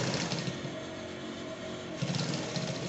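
A sewing machine top stitches palazzo trousers, its motor running in a steady, fast mechanical whir with a brief slowdown near the middle.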